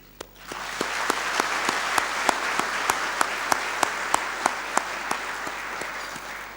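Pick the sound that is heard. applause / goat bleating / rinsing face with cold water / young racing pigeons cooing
applause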